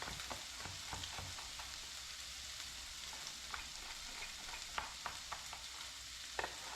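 Mushroom and red pepper fry in a pan with a steady close sizzle, broken by small scraping clicks and taps as the mix is stirred, no voices.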